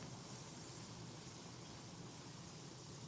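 A spray can releases transparent smoke in one steady, soft, continuous hiss that holds evenly and quietly for about three seconds with no other sound.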